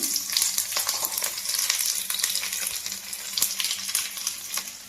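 Dried red chillies, cumin and garlic fry in hot oil for a tempering, making a steady, close sizzle with dense crackling pops throughout, heard alone.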